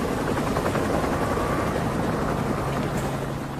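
A helicopter flies overhead at Mont Saint-Michel, airlifting tons of earth and stone; a steady, dense rotor-and-engine roar holds at an even, fairly loud level throughout, with no talk.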